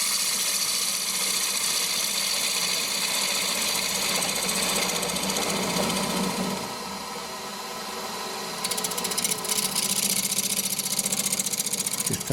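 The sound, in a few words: lathe turning clock blank to final diameter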